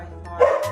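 A dog being dog-sat indoors gives a single short, close bark, loud and alone with no talk over it.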